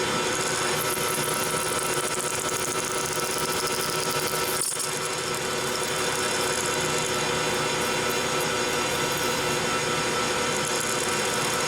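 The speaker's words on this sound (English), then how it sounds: "So this is a high helix drill bit, so it's designed to get rid of a lot more material" A lathe drills into aluminum with a high helix drill bit, a continuous, dense whirring grind, loud and close, broken by one brief dip partway through.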